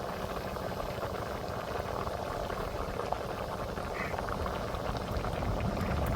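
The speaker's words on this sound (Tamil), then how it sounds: "இப்போ பாருங்கள் குழம்பு நல்லா கொதிச்சு" Mango and dried fish curry (karuvadu kuzhambu) boils in a pot, giving a steady close bubbling and gurgling that stays fairly even throughout, with no voices over it.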